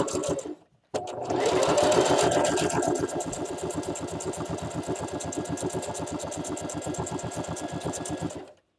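A sewing machine stitches fabric for an Easter basket, a fast, even mechanical chatter that starts after a short pause and runs steadily close by, with no talking.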